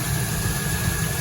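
Chevrolet Silverado pickup truck engine idling steadily with a low, continuous rumble and a faint high whine, heard alone with no voices.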